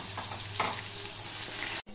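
Chopped onion frying in a pan for a chicken dish, a steady close hiss and sizzle with a brief stirring scrape, then a sudden cut near the end.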